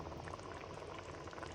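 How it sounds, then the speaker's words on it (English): Steady dense sizzling and bubbling as chopped tomatoes go into a pan of fried onion and pepper for a Ghanaian beans stew, a continuous faint simmering texture with no talk. "Whilst my onion and pepper is well fried, yeah, I will add my tomatoes."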